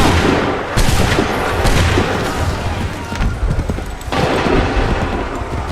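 A musket volley fired on command in Assassin's Creed 3: booming rolls of gunfire that repeat and overlap in dense bursts, loud and close, with battle noise continuing between shots.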